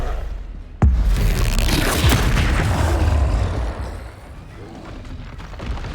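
Stupefy spell cast in the video game Hogwarts Legacy: a sudden loud booming blast that opens a dense, rumbling roar lasting a few seconds before it fades to a softer background.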